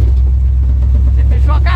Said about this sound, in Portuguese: É carburador que tá falhando.